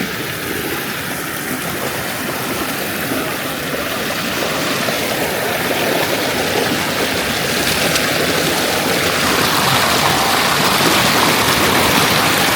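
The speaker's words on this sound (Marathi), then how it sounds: "बघ पाणी खलखल होतं" Water rushing and gurgling along a village stream in the Konkan during the monsoon, a steady broadband wash that swells slightly louder toward the end, heard alone with no voices.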